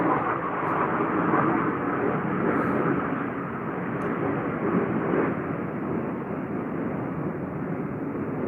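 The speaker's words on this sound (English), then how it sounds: "Besides this jet flying over right now." A jet aircraft flies overhead with a steady, broad, continuous roar that fills the whole clip at an even, moderate level.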